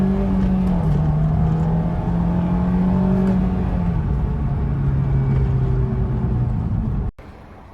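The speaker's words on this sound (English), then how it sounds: "Love those revs." A 2004 Honda S2000 roadster engine revs up and down in long sweeping pulls, loud and close, then cuts off abruptly near the end.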